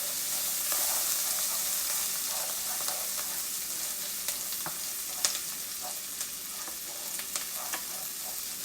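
Food frying in a pan while being stirred, a steady moderate sizzle broken by intermittent clicks and scrapes of a utensil against the pan, with no voices.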